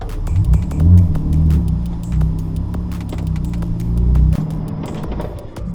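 BMW E46 325 being driven with its engine running, a close, steady low rumble from inside the cabin that swells slightly under light acceleration, with small rattles and clicks over the top and no talking.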